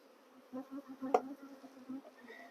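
Honeybees buzzing inside a hive box as it is moved outdoors before rain, a steady low hum with a louder close burst partway through, alone without talk.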